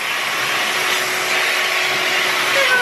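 Hoover vacuum cleaner running in a house, a loud, steady whirring roar close by, unbroken throughout with no talk.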